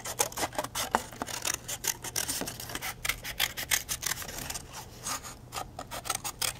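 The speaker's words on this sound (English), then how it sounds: "then I'm going to cut that circle out" Scissors snip through paper while a traced circle is cut out, giving steady, close rasping cuts in quick irregular bursts with no voice over them.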